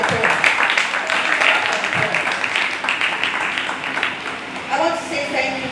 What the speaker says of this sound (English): You should clap for your parents.